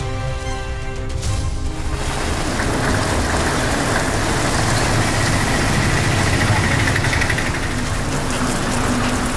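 Heavy overnight rain across districts of Tamil Nadu, a dense, steady hiss of downpour that stays loud and unbroken throughout.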